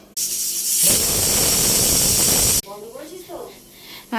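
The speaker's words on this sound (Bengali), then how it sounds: "মটনটা প্রেসারে সিদ্ধ হতে দিয়ে দিলাম" Mutton boiling with salt and turmeric in a pressure cooker that lets out a loud, steady hiss of steam for about two seconds, then cuts off abruptly, leaving quieter kitchen sounds and a voice.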